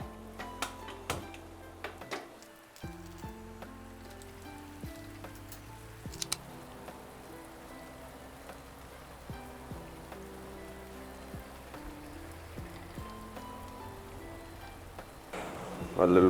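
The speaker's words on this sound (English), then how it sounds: "As it's raining" Steady rain patters on a surface through a kitchen scene while coffee is being made, with light clinks and ticks of dishes and utensils and a few tonal kitchen sounds; no one speaks.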